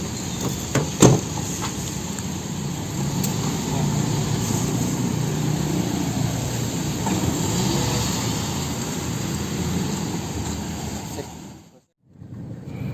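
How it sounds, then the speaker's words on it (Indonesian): Steady low engine and road drone inside a Toyota Vios being test-driven, with a couple of sharp cabin knocks near the start and a brief dropout near the end. "Ini lagi kita tes jalan."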